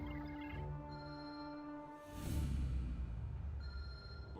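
A mobile phone rings with a steady electronic tone, faint and somewhat muffled, briefly covered by a burst of rumbling noise before the tone returns.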